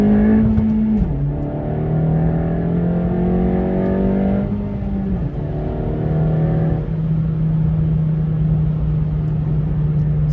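A 2022 Honda Civic Si running a 21 psi kTuner tune accelerates hard, its engine droning loudly and climbing in pitch through several gear changes, heard from inside the car with steady road noise and no talk.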